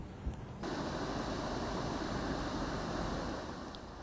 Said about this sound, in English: Japan's Okinawa island was battered by strong winds, heavy rain and destructive waves